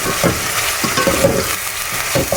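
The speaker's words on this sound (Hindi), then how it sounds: "इसके अंदर मैं चिकन डाल दूंगी अब।" Chicken pieces fry and sizzle in a pan with ginger-garlic paste, with a steady hiss and repeated stirring scrapes at an uneven rhythm, close and loud, with no voices.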